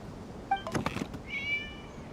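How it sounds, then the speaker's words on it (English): A cat in Genshin Impact gives a short meow followed by a second, higher drawn-out mew, both brief and fairly close against a quiet game background. "It was just a cat."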